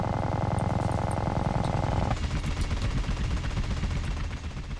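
Sustained rapid machine-gun fire in Grand Theft Auto: San Andreas, fired from a mounted gun emplacement; a dense, loud, continuous burst of shots that shifts to a rattling, slightly more broken stream halfway through, with no talk.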